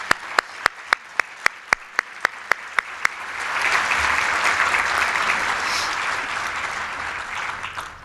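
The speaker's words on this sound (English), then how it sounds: "Let's give them another round of applause." An audience at a charity breakfast applauds. A few slow, loud, separate claps open it, then warm, sustained clapping from the room swells and holds before thinning out near the end.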